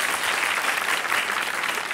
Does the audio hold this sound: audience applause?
yes